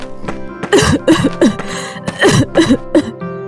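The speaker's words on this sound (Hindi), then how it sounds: "जिसमें से खांसने की आवाज आ रही थी" A series of harsh, raspy coughs from an old woman in a hut, in quick bursts, close up, with throat clearing between them.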